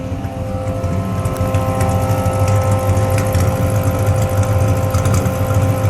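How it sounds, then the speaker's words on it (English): A 426 Max Wedge V8 in a 1963 Plymouth Savoy idles loudly and close, its lumpy, throbbing rumble holding steady throughout with no voices. "Let me let it idle for a second."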